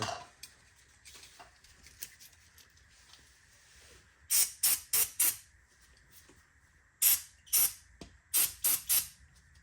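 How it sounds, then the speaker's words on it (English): Short bursts of hissing brake cleaner spray from an aerosol can onto Tesla Model 3 brakes, fired in two quick clusters of several sprays each, with quiet pauses between. "I'm gonna spray a little bit of brake clean on them"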